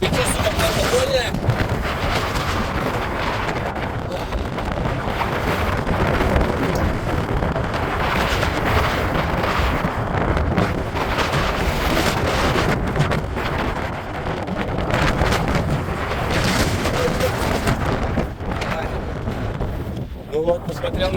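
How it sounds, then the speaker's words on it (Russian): Strong, cold wind buffets the microphone outdoors in Switzerland, a loud, continuous roaring rush with gusting swells, and voices come and go beneath it. "И учел, что ветер сильный."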